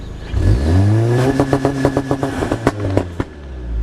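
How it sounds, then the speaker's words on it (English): A Volkswagen GTI-type turbocharged engine fitted with a RacingLine intake revs up and holds at high rpm, then breaks into a rapid popping, stuttering rattle as launch control limits the revs. "I'm gonna test the launch control real quick just to listen to it."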